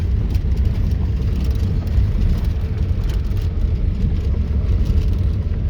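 A car driving on a mountain road, with a loud, steady engine and road rumble that continues without a break from inside the vehicle.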